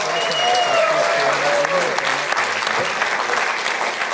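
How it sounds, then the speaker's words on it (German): Studio audience applause in a Swiss celebrity TV cooking show, a sustained round of dense clapping lasting several seconds with a host's voice heard over it. "Ganz herzlichen einen Applaus, meine Damen und Herren."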